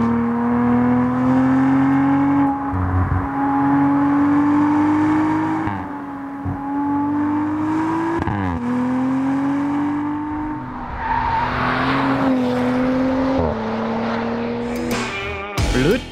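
Audi RS4 Avant engine held at full throttle through the gears, a loud sustained drone with rising pitch sweeps and brief dips at each gear change, heard close from inside the car with no talk.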